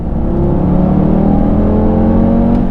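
A run-in five-cylinder engine in a 2020 Audi TT RS with a double-clutch transmission holds a loud, steady, throaty drone with a rising tonal whine, heard from close by with no talk.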